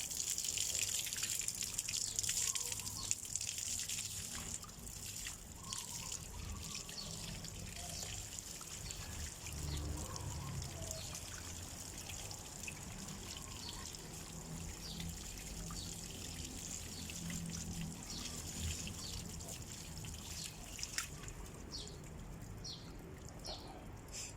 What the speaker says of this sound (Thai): แล้วน้ำไล่ฉีดลงมานะครับ ไล่ฉีดแบบนี้นะครับเนี่ย